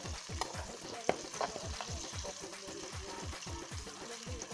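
Dried fish pieces fry in hot oil with dried chillies, a bubbling sizzle under rhythmic scraping stirs of a spoon against the pan, close and steady, no talking.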